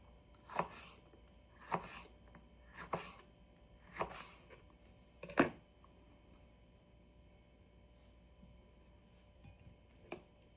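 A freshly sharpened kitchen knife chops a jalapeno on a cutting board: five evenly spaced, crisp chops, a pause, then one more, all quiet and close with no talk.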